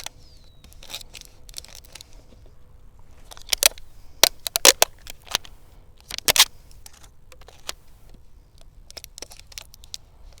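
Tape pulled and pressed around the rim of a plastic-cup terrarium holding a plant, giving sharp close crackles and peeling bursts in uneven clusters over a quiet background, no voices.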